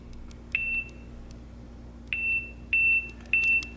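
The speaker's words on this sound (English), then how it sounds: "Beeping a lot faster, getting warmer." Four short electronic beeps, each a steady high tone, the first alone and the last three arriving closer together at a quickening pace, over a low background hum.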